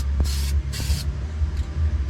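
Two short bursts of aerosol spray paint on a 1968 Chevrolet C-10 truck's shifter surround, each hiss lasting about a quarter second, close and fairly loud over a low steady background rumble.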